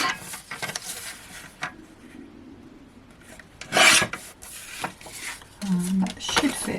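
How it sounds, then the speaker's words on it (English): A paper guillotine slices card insert paper in short rasping strokes, loudest near the middle, with handling rustles around them. "to cut that insert paper, I'm just going to use my guillotine"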